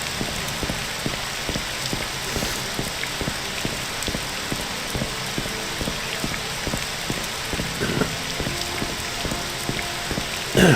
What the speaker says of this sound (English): It's downpour.